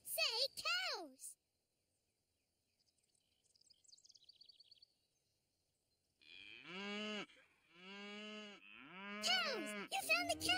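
A few cartoon cows in a barn moo in long, low drawn-out calls, separated by quiet gaps, with a short higher animal call and a brief faint sound between them.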